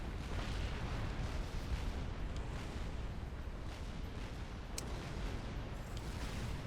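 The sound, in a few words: artillery fire in video game Supreme Commander: Forged Alliance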